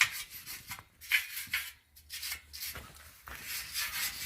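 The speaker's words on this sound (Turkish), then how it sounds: "Paslarını temizliyorum. Bunu en kolay bu tel fırçasıyla olur." Harsh scratchy scrubbing of a wire brush on rusty metal, in uneven bursts of strokes with brief pauses between them, close up.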